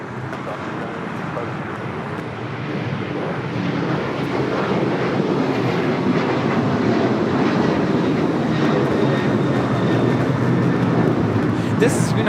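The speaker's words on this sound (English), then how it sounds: "This is United Airlines 279 taking off to Tampa on the 737-900ER." A United Airlines Boeing 737-900ER taking off from Los Angeles (LAX), bound for Tampa, heard as a broad, steady jet engine roar that swells and holds loud with a slight rise; a voice talks over it at times.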